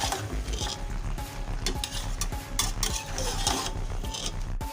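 Beef and cauliflower curry cooks in a pan over a medium-low flame, a steady sizzle broken by repeated scraping stirs and the light clatter of a spoon against the pan.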